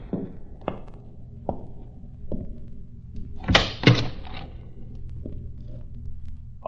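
A door is pushed shut as a radio drama sound effect in an old time detective show, with light taps and footsteps leading to a solid wooden thunk and rattle, then quieter steps.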